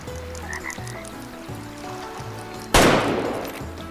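A single loud rifle shot fired at a mule deer in the hunting video game Way of the Hunter, cracking sharply over a backdrop of croaking frogs, then fading in a rolling echo.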